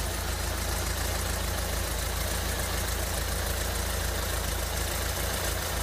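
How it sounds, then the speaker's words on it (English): A VW Transporter T3 van's fuel-injected engine idles close by with a steady, unbroken mechanical hum and hiss, no voices over it. "And if I spin the engine up, you'll see the fuel pressure go up."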